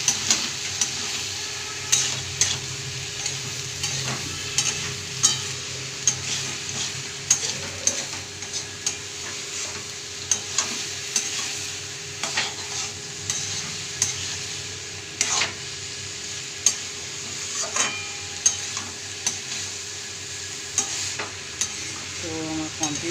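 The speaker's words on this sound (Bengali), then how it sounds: "এটা এবার আমি নেড়ে নেব।" A spoon stirs bottle gourd and prawn curry with potato bori in a pan, giving intermittent scraping strokes over a soft, steady sizzle. The stirring is close, with no talking.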